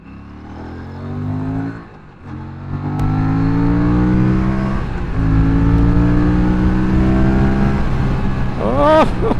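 An Aprilia RS 457 motorcycle accelerating hard in sport mode toward full speed, the engine note climbing steadily through gears with a brief dip at a shift, loud and close, wind rushing along.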